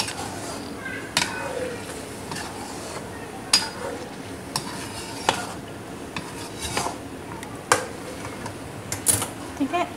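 Yogurt being stirred and roasted in a cooking pot for chicken malai handi, with a spoon scraping and clinking against the pot in scattered knocks over a low background, with faint talk in places.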